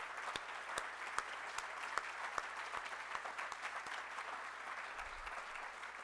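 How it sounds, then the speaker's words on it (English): An audience applauds at an evening talk event, steady clapping from a modest crowd with some sharp individual claps standing out, sustained throughout. "I think we should give Regina a round of applause"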